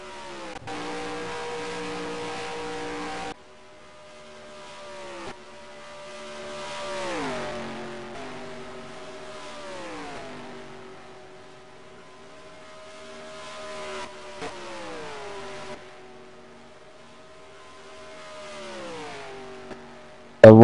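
Race cars in a truck series event at Texas Motor Speedway roar past on the oval, engine notes rising and sweeping down in pitch as several pass by, loud and near with no talking.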